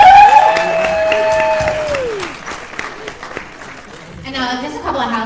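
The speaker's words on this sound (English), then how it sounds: "Let's give Rebecca a big round of applause." Applause from an audience at a Republican women's club gubernatorial forum in Virginia comes up as a steady wash of clapping beneath a tonal musical sting at the start, with a voice near the end.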